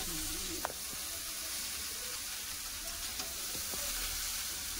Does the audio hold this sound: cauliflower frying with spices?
yes